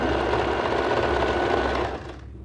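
A sewing machine whirs in a fast, continuous run while stitching the folded hem of a nightgown, easing off slightly at the end.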